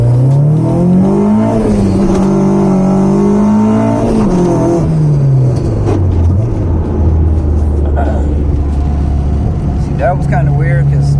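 A car engine, suspected of bent valves, revs hard through a test pull, rising and falling loudly and continuously for about ten seconds, with a voice heard over it.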